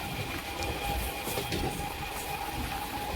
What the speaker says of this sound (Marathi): ट्रेन जवळून आली का असं वाटतं